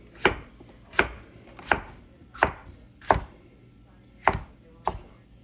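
A knife dicing fruit on a cutting board makes seven crisp, evenly spaced chops close up, about one every three-quarters of a second, with quiet between strokes.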